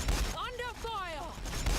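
Rapid gunfire rattles through a shooter video game, bursts at the start and end around a whistling, swooping tone in between, with a voice briefly over the action.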